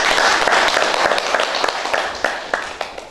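An audience at a book presentation event applauds, a dense burst of clapping up close that thins out into scattered individual claps as it fades.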